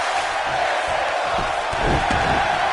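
A WWE 2K19 arena crowd of over 77,000 roars and cheers in a steady, loud wash of noise, with a commentator's voice faintly underneath.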